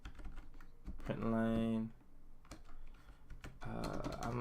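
Computer keyboard typing during a Rust programming session, a run of light key clicks in short bursts, close and quiet, with someone talking over and between them.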